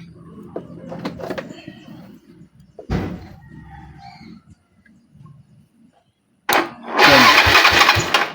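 A motorcycle starter motor wired directly to power, with scattered handling clicks and brief noises, then a loud, sustained whirring burst near the end.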